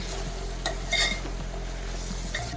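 A spoon scrapes and clinks in a pan while flat beans, chopped tomato and gongura are stirred into a curry, with a few close metallic taps over a low frying hiss.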